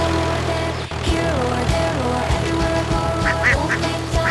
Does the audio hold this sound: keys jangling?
no